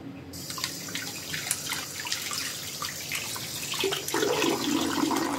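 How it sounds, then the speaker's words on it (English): Running tap water splashing as hands are washed at a kitchen sink before cooking chicken wings, a steady close stream with scattered splashes that grows fuller and louder near the end. "Clean my hands a little bit first."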